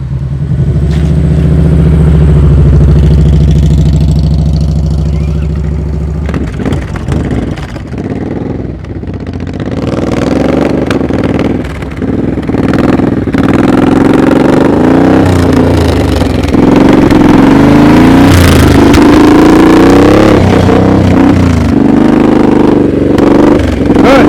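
Motorcycle engine during slow-speed riding practice, a steady close idle that breaks into uneven revs and clattering throttle surges, loud throughout with no talking.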